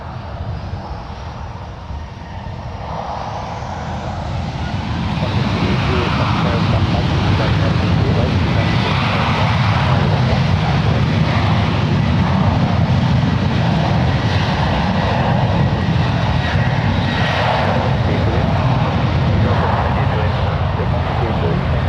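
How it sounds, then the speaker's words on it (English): At San Francisco International Airport, an American Airlines jet departing for Chicago spools up, its engine roar rising within the first few seconds and then holding as a loud, sustained rumble, with radio voices faintly mixed in. "This is American 2656 about to depart to Chicago"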